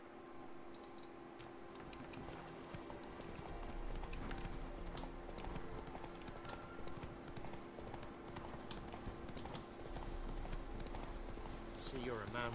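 In The Witcher 3, the horse Roach walks along with steady, rhythmic hoof clip-clops under ambient game sound, while voices talk over the footsteps.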